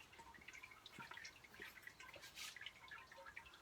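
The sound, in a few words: wort trickling slowly during sparge while brewing beer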